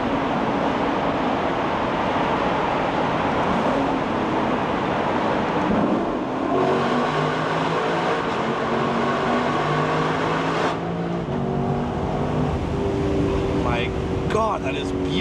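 A Lexus LC500 accelerating at full throttle on an unrestricted Autobahn, its engine note climbing steadily through rising gear sweeps, loud and close from inside the car with heavy road and wind noise, while someone talks over it.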